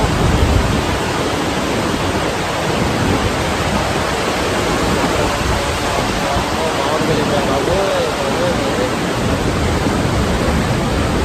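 Loud, steady roar of fast-rushing water at Srisailam Dam, a dense broadband wash that never lets up, with faint voices barely audible beneath it.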